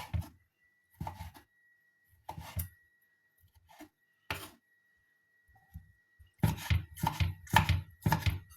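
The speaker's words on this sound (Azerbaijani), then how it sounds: "Belə xırda-xırda doğrayır." A knife chops vegetables finely on a board in quick bursts of rapid, crisp taps, separated by short pauses, then a longer steady run.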